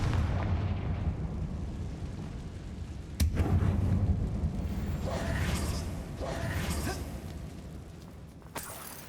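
In the Hogwarts Legacy video game, a Confringo blasting spell goes off inside a closed mine that looks like a tomb, with a sudden loud boom and rumble over a dense, continuous roar of game ambience.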